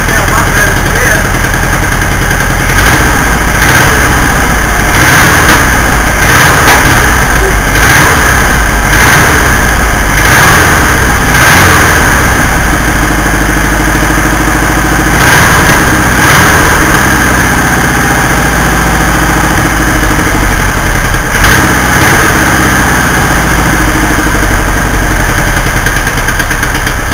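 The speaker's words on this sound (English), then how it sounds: "I got her idling, and I think it sounds pretty good" Loud and near, a 1964 VW Beetle engine idles steadily after timing adjustments, with a continuous low mechanical drone and rhythmic pulsing throughout, occasional faint bumps over the running engine.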